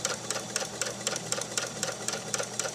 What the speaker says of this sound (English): then you'll go really slow and press your foot down